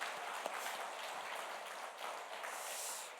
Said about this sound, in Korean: 격려의 박수를 한번 드리겠습니다